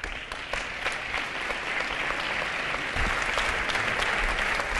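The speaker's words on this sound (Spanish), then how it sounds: "Un fuerte aplauso para Valentí San Juan." Sustained applause from a large audience at a talk, steady and fairly loud throughout, with no voices standing out.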